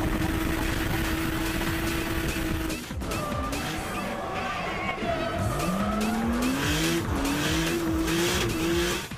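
Drift cars battling on a track at a 2005 drift event, with loud, sustained tire squeals that rise and fall in pitch over a roaring engine, close and continuous with a brief dip partway through.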